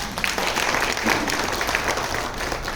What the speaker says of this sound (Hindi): अब दूसरा हाथ जोड़कर खुद के लिए तालियां बजा दीजिए एक बार